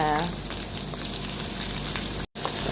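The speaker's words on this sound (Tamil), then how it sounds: "நல்லா வதக்குங்க இந்த வெங்காயத்தை" Onions frying in a pan with garlic and chilli, a short, steady close sizzle that cuts out briefly near the end.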